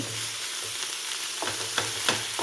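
Pork sizzles and crackles steadily in a non-stick pan, with a few louder spatters and stirring scrapes near the end.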